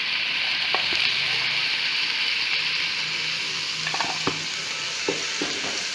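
Chicken pieces fry in oil in a pan for a smoky dhuan dar chicken, a bright, steady hiss with a few light clinks of a utensil, close and unvoiced.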